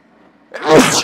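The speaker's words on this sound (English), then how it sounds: "First sneeze of the day, hopefully one of the last." A single loud, close sneeze bursting out after a brief quiet intake of breath.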